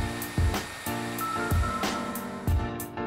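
A heat gun or hair dryer blows hot air in steady bursts onto the flap of a vinyl skin being wrapped onto a OnePlus 7T phone, a continuous close whoosh with a few louder pulses.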